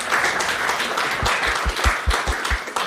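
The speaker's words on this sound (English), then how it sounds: "a real cheer needs to go to Luke" An audience at a live village community event claps and cheers loudly, with sustained applause and a run of heavier, rhythmic claps in the second half.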